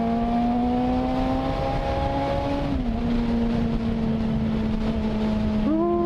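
A Suzuki SRAD motorcycle with an adapted aftermarket exhaust revs, its engine droning at a steady pitch with a brief dip and a quick rise at the end, under constant wind noise.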